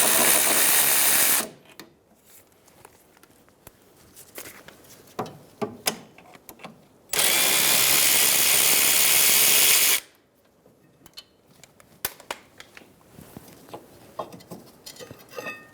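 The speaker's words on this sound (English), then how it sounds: "Using a 14mm socket," A 14mm socket works on the rear caliper bracket bolts of a 2007-2011 Toyota Camry. Two loud, sustained whirring tool bursts are separated by scattered metallic clicks and clanks.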